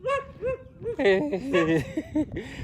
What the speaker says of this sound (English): I got 2 dogs barking at me right here.